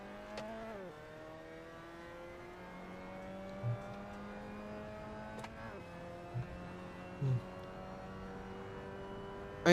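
A Mazda Miata engine in a racing video game drones steadily with smooth harmonic tones, dropping in pitch as the car slows for late braking, then running on at a constant, moderately loud level. A few brief bumps and clicks sound along the way.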